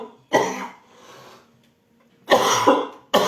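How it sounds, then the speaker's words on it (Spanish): Several harsh, close coughs: a double cough, a pause with a breath, then another pair of coughs and the start of a third. "ahora me ha entrado la tos"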